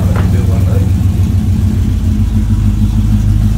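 Car engine revving with a deep, loud rumbling drone up close, with voices talking over it.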